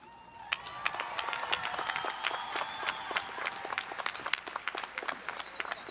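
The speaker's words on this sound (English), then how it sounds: "Let's give another round of applause to Christina and Leo" An audience at a high school graduation claps, starting quietly and swelling into sustained, moderately distant applause with scattered sharp claps and faint cheering, and no speech.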